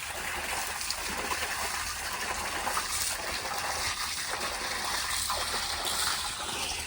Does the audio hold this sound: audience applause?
no